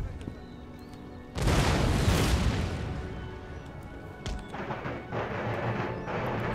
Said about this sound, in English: That was their artillery.